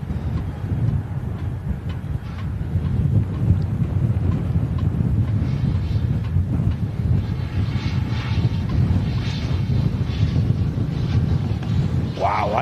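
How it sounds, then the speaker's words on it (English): Strong gusts buffet an outdoor microphone at an airport plane-spotting spot, a steady loud roar of rumbling wind noise that continues without pause for the whole stretch. "Wow, that is windy."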